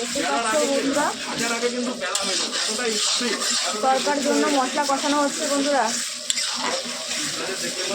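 Onion with ginger garlic paste frying in a pan for a curry, a steady loud sizzle with stirring scrapes throughout while a voice speaks over it.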